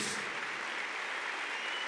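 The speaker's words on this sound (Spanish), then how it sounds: "Aplauda a ese Jesús." Congregation applause at a Christian church service, a steady, dense wash of clapping that fills the space evenly throughout, with no voices rising above it.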